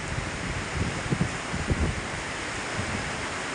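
Strong wind roars across a beach at Alappuzha, Kerala during a heavy monsoon downpour, a steady broadband rush of wind and rain with a few low gusty buffets hitting the microphone, no voices.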